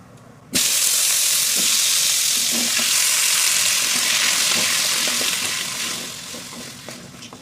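Potatoes drop into hot oil with a sudden loud sizzle that hisses on steadily, with occasional scraping of stirring, easing slightly toward the end.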